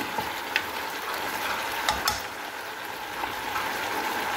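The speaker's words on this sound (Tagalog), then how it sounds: "Kumukulo na ang ating tinolang manok." A pot of Filipino chicken soup (tinola) with papaya bubbles and simmers steadily, with a soft sizzling hiss and occasional small pops and clinks on top.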